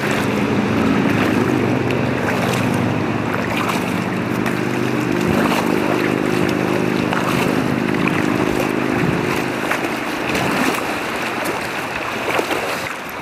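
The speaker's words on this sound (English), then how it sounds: "So we are cruising on down the river." Steady engine drone of a boat cruising down a river, with rushing water and wind noise throughout, continuous and fairly loud.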